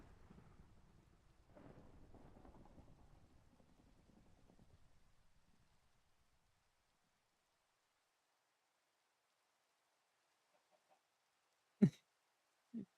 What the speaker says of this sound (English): Go away, rain.